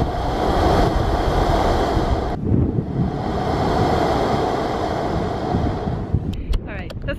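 Air and water surge through sharp, dried coral rock on the Curaçao coast, a steady close roaring rush like strong wind or surf, briefly dipping midway before resuming, with a few faint clicks near the end.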